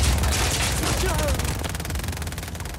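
Sustained gunfire in Just Cause 4 rattles as a dense, rapid burst of shots, loud at first and easing slightly while the rhythmic crackle continues to the end.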